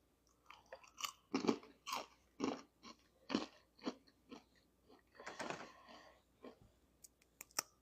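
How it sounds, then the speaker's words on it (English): Crunchy cheesy plant-based jerky chips are bitten and chewed up close, a rapid string of sharp, loud crunches and crackles in irregular bursts with brief quiet gaps between, no talking. "And those are big crunchy cheesy bits, y'all."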